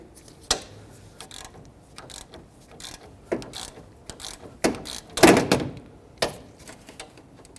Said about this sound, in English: Grab a 10mm socket and let's break it free.